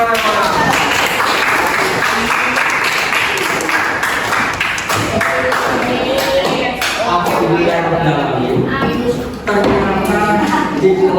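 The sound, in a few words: classroom applause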